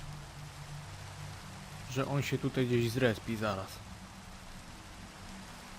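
Steady rain falls in a forest within a video game, a soft continuous hiss running throughout while someone talks briefly over it in the middle.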